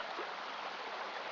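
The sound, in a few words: river water flowing through a gold washing box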